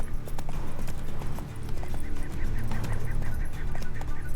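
Roach, the horse in The Witcher 3, gallops with rapid, rhythmic clip-clop hoofbeats, loud and close, and a brief neigh-like cry sounds over the running game audio.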